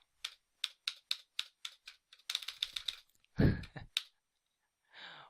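Close, crisp keystrokes on a computer keyboard: an even run of separate taps, then a quicker cluster, with a soft thump and a faint breath toward the end.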